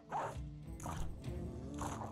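A dog summoned in the video game Battle Brothers gives short growling, barking yelps, about three bursts in quick succession, close and moderately loud.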